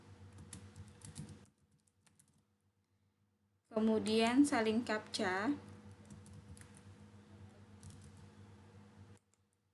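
Soft keyboard typing during a website login, with light clicks before and after a stretch of speech over a quiet background hum.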